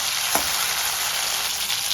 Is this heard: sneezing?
no